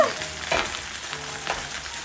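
Chinese cabbage cores and garlic sizzle steadily in a hot pan with the lid just lifted, a continuous close crackling hiss with a few louder spits.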